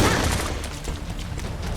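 Gunfire in the shooter game Bright Memory, a dense, loud burst of shots and impacts filling the short moment, close and forceful, with no talk over it.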